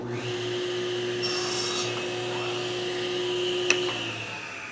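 A saw cutting a dado in wood for a display shelf. The blade drones steadily with a constant tone, a brief sharp click comes near the end, and then it winds down.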